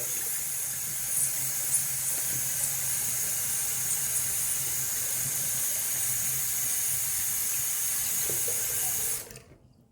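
A bathroom tap runs in a steady, close, even stream of water during a wet shave, then shuts off abruptly just before the end.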